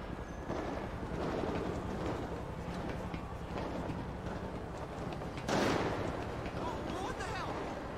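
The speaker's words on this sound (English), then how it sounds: "Shots fired." Gunshots in a video game, a rapid train of distant, clattering shots running steadily underneath, with a sharper, louder burst toward the end and a voice talking over the action.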